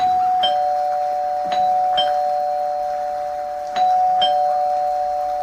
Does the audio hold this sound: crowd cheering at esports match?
no